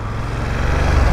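A BMW F900 GS Rally motorcycle's new engine idles nearby with a steady low throb that rises slightly toward the end, heard briefly without talking.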